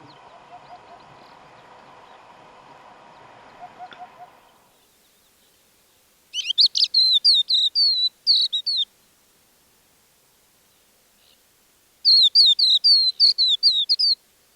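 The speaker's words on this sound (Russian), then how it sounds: "Получив удовлетворительный результат с записью голоса хохлатого жаворонка" A crested lark sings two separate bursts of quick, high, warbling phrases, clear and close, recorded from a car on the Manych steppe. A low hum of vehicle noise opens the recording before falling away into quiet.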